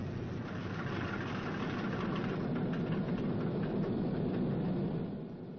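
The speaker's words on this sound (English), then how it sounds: "That's a new engine they just put in there. Maybe it's a little bit cranky." Big radial piston engine of a WWII B-29 Superfortress, newly installed, running with a loud, steady rumbling roar and rough knocking texture, close up with no talk, easing slightly at the end.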